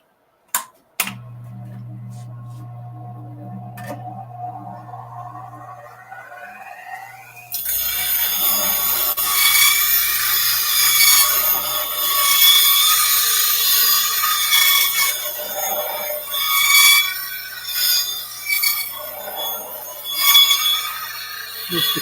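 A turning tool is sharpened on a 180-grit Raptor CBN grinding wheel with a Wolverine jig and Varigrind: the wheel spins up humming, then a loud hissing, scraping grind runs steadily with swelling passes.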